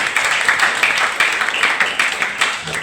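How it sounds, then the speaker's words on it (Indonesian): An audience of students gives a round of applause at a school event, the clapping steady and fairly close for a few seconds, with a voice faintly under it. "Beri tepukan sekali lagi untuk Pak Ismi."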